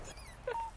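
A small dog lets out a brief, thin whimper, a short high whine lasting under a second against low outdoor background noise.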